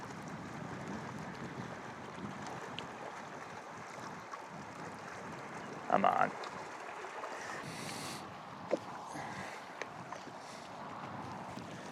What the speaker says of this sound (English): It is windy today too